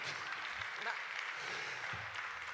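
Applause from an audience at a live televised folk Christmas event in Tortolì, a faint, steady wash of clapping lasting throughout.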